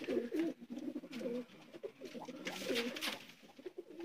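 Sialkoti pigeons coo close by in soft, repeated rolling phrases that overlap steadily for the whole stretch, with no voices.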